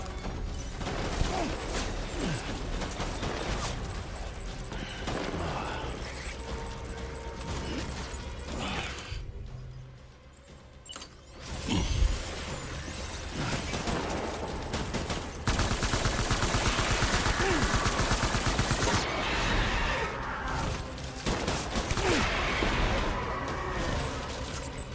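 Sustained gunfire and machine-gun bursts in the video game Death Stranding, dense and loud nearly throughout with a brief lull midway, mechanical clatter and crashes mixed in.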